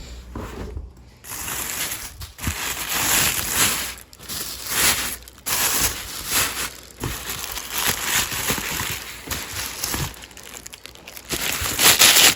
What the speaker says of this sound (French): Fait que là, on va ouvrir le cadeau.